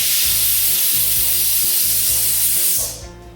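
A pressure cooker on medium flame, cooking tomato pulao, lets out a loud, close, steady hiss of escaping steam with a pulsing low undertone, then fades out near the end.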